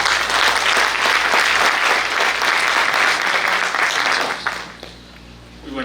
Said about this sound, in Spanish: Para él, por favor, un fuerte voto de aplausos.